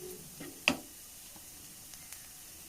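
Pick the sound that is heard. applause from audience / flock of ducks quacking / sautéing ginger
sautéing ginger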